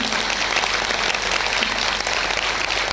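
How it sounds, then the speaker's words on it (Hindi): Loud, dense applause from a live audience at an interview event, steady hand clapping filling the whole span at an even level. "जोरदार तालियां हो जाए"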